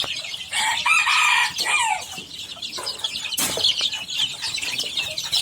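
Chicks and chickens close by, with bright peeping from young chicks and clucking from adult fowl, plus a short flurry of wing flapping, alone without talk.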